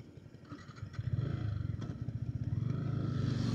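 A Yamaha R15 V3 BS6 motorcycle sets off on a ride, its engine throbbing in a quick steady pulse that builds in loudness as it pulls away, with some clatter and wind noise.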